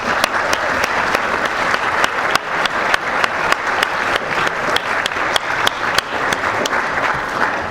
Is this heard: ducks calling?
no